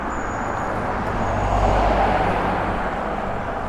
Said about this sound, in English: I lost the sound there with those cars